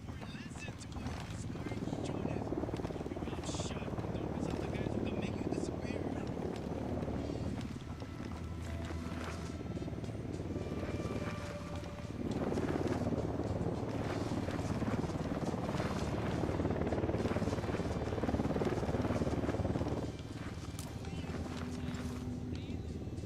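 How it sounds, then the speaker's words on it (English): A military helicopter flying over in Ghost Recon Wildlands, its steady rotor and engine roar filling the scene alongside wind-like rushing noise, with voices talking over it. "Chopper inbound."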